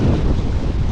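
Strong wind roars and buffets the microphone in a loud, continuous rush, with no pauses.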